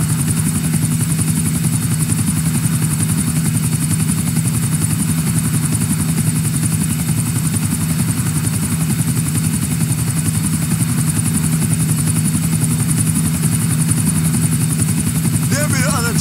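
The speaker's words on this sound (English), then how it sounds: "There be the other chopper." A helicopter in the video game Grand Theft Auto IV flying with a steady, loud rotor and engine drone that holds unchanged throughout, with voices talking over it.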